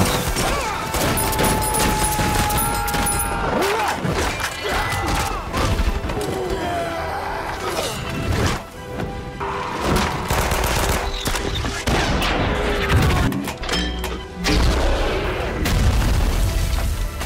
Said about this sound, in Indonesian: menembak para tentara Jerman dengan snipernya, sehingga pasukan merah pun memutuskan untuk berperang saat itu juga